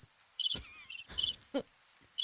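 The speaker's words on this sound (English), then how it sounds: "You got your crickets." Crickets chirp in repeated bright trilling bursts, with several clear pulses spread across the stretch at moderate closeness and no talk over them.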